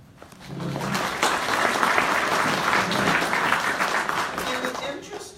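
An audience at a candidate forum applauds steadily for several seconds, a dense wash of clapping that swells quickly and tapers off at the end.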